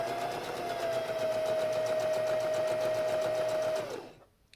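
A sewing machine runs at a steady, fast speed set by a foot pedal, a continuous close mechanical whir and hum that winds down and stops near the end.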